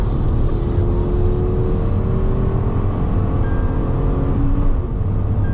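A Tata Altroz Racer hatchback with a hydraulic clutch drives on a race track, its engine a loud steady drone heard from inside the cabin, with pitch shifting slightly as speed changes and no talking.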